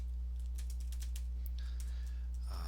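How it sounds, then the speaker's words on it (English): Rapid typing on a computer keyboard while writing code, a quick run of close, crisp key clicks over a steady low hum, with a brief burst at the end. "I'm typing fast here, so hopefully there's no typos"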